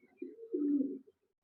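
A pair of Egyptian Sherazi fancy pigeons gives a single low, throaty coo up close, lasting about a second, before a short click.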